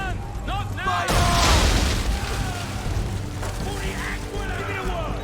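Cannons booming aboard a ship in a naval battle in Assassin's Creed III, a heavy blast with rumbling decay that swells mid-clip amid game noise, with shouted voices around it.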